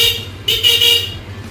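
A car horn on a vehicle being worked on at a shop blares in one close, loud toot lasting about half a second, over a low steady idle hum.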